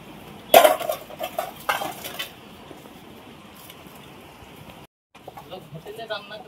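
Dishes and utensils being washed after cooking, with clattering metal plates and scraping in a short busy burst near the start, then quieter handling while people talk.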